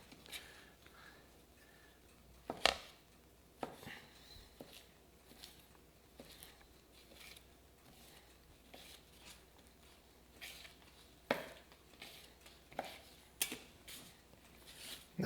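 Oyster mushrooms pulled off their stems by hand for a smoked tofu avocado pizza, giving quiet scattered snaps, creaks and soft tearing clicks at close range with no talking.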